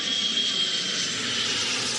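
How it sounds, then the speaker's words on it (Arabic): A fixed-wing airplane flies past as a steady, continuous engine roar that holds at an even level from start to finish, with no voices. "هركب الطيارة اللي بتطير في السماء"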